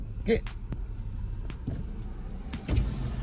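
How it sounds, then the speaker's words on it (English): A Nissan Rogue with a newly replaced driveshaft cruises smoothly, a low steady road rumble heard from inside the cabin, broken by a few soft clicks and taps. "This Nissan drives perfectly."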